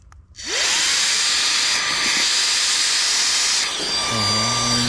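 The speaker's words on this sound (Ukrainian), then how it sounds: "я відкрив клапан і вставляємо насос" An electric air pump inflates an inflatable fishing boat through its open valve, starting with a rising whir that settles into a loud, steady rushing hiss, then dropping to a lower, deeper hum near the end.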